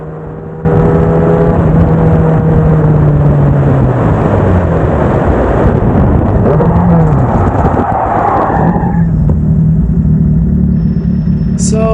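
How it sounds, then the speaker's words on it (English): A Formula DXB Max race car engine screams loudly through gear changes at Dubai Autodrome Club Circuit, the high pitch rising and dropping as the car brakes, slides and accelerates, close and continuous. "Listen to the engine."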